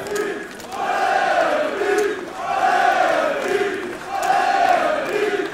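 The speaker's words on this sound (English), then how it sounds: "I wonder who the crowd is cheering for." A large arena crowd at a DreamHack Counter-Strike esports match on Dust 2 chants in a rising and falling rhythm, three loud swelling waves of cheering that fill the hall.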